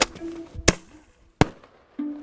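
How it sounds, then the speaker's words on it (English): Firecracker-like bangs: three sharp isolated cracks at moderate distance, separated by quiet gaps with faint tonal background hum, no voices. "It's just like a firecracker,"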